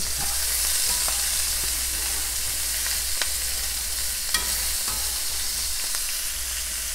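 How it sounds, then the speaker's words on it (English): A mirepoix of celery, carrots and onion sautéing in a pan, a steady close hiss of frying with occasional faint clicks of a utensil, no voices. "It's time to add the mirepoix."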